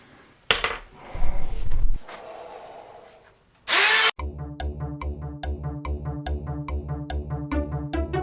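A power tool works on a model rocket during a repair, first in rough bursts, then as a fast, regular series of close, loud mechanical pulses.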